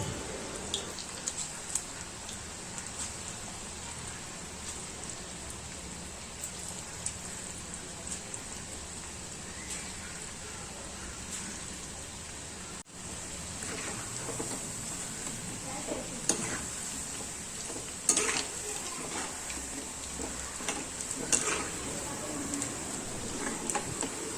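Onion bhaji fritters frying in hot oil give a soft, continuous rain-like hiss and crackle that stays fairly quiet and steady, with a few louder pops.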